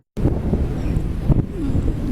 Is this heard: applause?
no